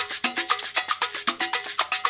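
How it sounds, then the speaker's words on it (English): Latin percussion loop of timbale and conga with the low end removed, a steady, bright pattern of crisp repeated hits at an even, driving rhythm, alone and close. "And I found this Latin percussion."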